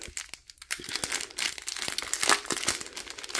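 A plastic packet of diamond painting rhinestones is opened up close, with quick crinkling and tearing sounds coming in irregular bursts and a few sharp crackles.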